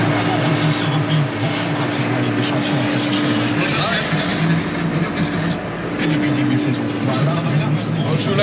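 A dusty tractor idles steadily in a very dry field during barley sowing, a loud, constant low engine drone with a sustained hum and no pauses, and a voice talking over it.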